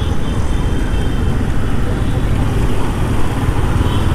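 Steady, loud engine and wind roar from a Yamaha MT15 BS6 motorcycle being ridden on the road, continuous and close with no break.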